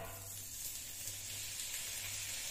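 Chopped onion and tomato sizzling in a hot pan, a steady, close, bright frying hiss that holds evenly throughout with no talk.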